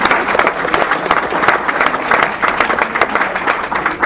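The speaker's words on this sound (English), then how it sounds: "if we can give our candidates a round of applause" A room of attendees at a Republican women's candidates forum gives the candidates a round of applause, loud, close, and dense clapping with individual claps audible, continuing steadily throughout.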